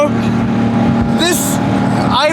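A 2018 Porsche 911 GT3 Touring engine roars loudly and steadily from inside the car, with a rising whine sweeping up as it revs; a voice talks over it.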